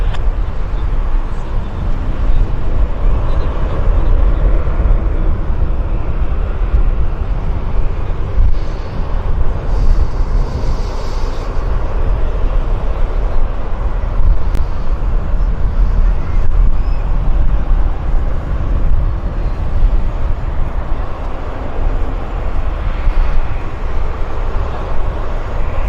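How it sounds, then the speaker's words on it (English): Q400 turboprop airliners departing Vancouver airport, a steady broadband engine roar that holds loud and continuous throughout, with no breaks between passes. "We've actually got 3 Q400s on their way out right now."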